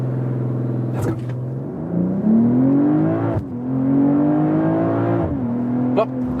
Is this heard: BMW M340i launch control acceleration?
yes